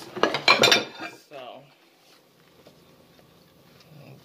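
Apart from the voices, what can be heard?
washing dishes, pots and cutlery in kitchen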